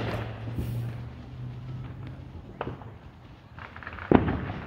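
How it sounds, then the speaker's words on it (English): Fourth of July fireworks going off in the distance, several muffled bangs and pops spaced through the clip with a sharper, closer burst near the end, over a low steady background hum. "They're shooting fireworks over there."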